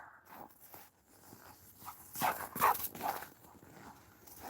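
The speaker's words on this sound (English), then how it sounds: "Bloody dog." A dog barks outdoors on a cold night in Russia, a few sharp barks clustered in the middle of the clip, fairly close and standing out over faint background noise.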